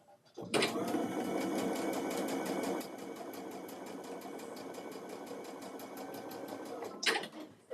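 Sewing machine stitching a butterfly quilt, heard as a steady close-up mechanical whirr with rapid rhythmic ticking that runs for several seconds and then stops.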